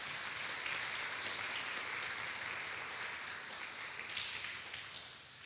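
A class applauds, a faint, distant patter of steady clapping from a room of people, soft and continuous throughout with no talking over it.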